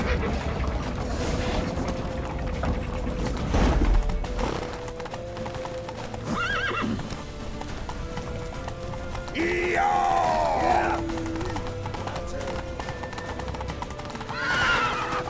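Horse hooves clip-clop rapidly in a steady gallop in The Witcher 3: Wild Hunt, with several neighs and whinnies rising over a mechanical clatter and ambient game sound.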